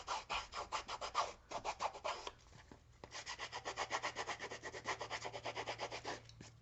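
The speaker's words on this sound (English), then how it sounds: "I'm using the sanding tool, and I've had this for years and it still works perfect." A hand sanding tool scrapes rapidly back and forth along the edges of paper for a holiday craft project, making fast rhythmic rasping strokes up close. A brief pause breaks the strokes before another steady run of scraping.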